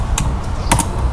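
A few quick keystrokes on a computer keyboard, close and crisp clicks over a soft steady background hum.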